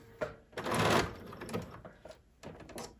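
A Bernina sewing machine stitches in short mechanical bursts, with one longer run of whirring needle action and brief pauses as the machine stops and starts, moderately close.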